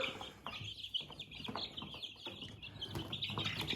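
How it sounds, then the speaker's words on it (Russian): Chicks in a brooder, a close busy mix of high chirps and soft clucking sounds with short calls overlapping, moderately loud and without talking. "цыплята начинают клевать друг друга."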